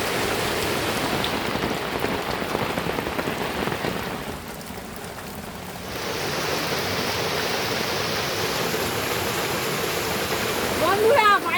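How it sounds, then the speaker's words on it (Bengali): Torrential outdoor rain with big, heavy drops makes a dense, continuous roar that eases slightly midway, then swells back to full strength. "বাইরে বিশাল জোরে বৃষ্টি হচ্ছে, একদম মুষলধারায় বৃষ্টি, বিশাল বড় বড় ফোঁটা পড়ছে।"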